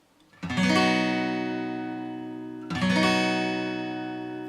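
A B bar chord is strummed twice on guitar, each a bright, ringing chord struck cleanly and left to sustain and slowly fade, the second coming about two seconds after the first, with no voice.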